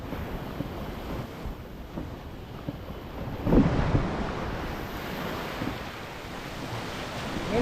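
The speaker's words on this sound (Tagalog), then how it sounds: "liligo muna kami dito sa dagat." Sea waves wash steadily onto the shore at Saud Beach in Ilocos Norte, a continuous surf rush mixed with gusty wind buffeting the microphone, with one slightly louder swell midway.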